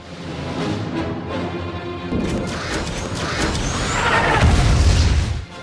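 A deep booming blast from a drone missile strike, with crashing, rumbling debris that builds and swells loudly before cutting off abruptly, heavy and close.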